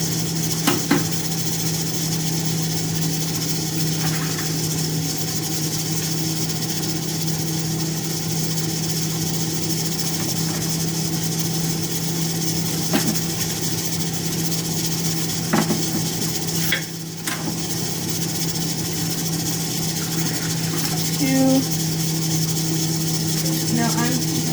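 Steady mechanical hum with a constant low drone from a home canning setup running in a kitchen during vegetable broth preparation, a continuous background rumble with occasional faint clicks and knocks.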